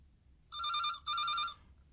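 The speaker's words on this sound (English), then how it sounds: "Then the telephone rang" An old-style telephone bell ringing in two short bursts with a brief gap between, clear and bright against near silence, as a sound effect in a spooky Halloween story reading.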